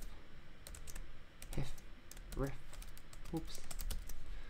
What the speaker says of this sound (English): you can hold down the command and then press enter